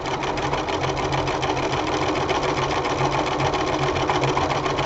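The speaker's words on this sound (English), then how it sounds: "So all I'm going to do is sew straight" A sewing machine runs steadily on a long straight gathering stitch through apron fabric, a continuous close whirring hum with fast even needle rhythm, loud and uninterrupted throughout.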